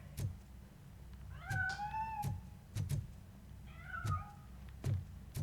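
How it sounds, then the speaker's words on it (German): A cat in a RoboCop video game meows twice, two drawn-out rising cries set against a low game background with regular soft thuds like footsteps, and no one speaking. "Eigentlich hätte ich die Katze fangen sollen"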